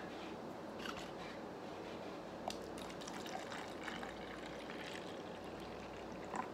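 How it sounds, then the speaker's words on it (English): Jolly Rancher grape soda is poured in a steady, soft liquid stream with faint fizzing trickle, close and quiet with no talking. "Let me pour this out"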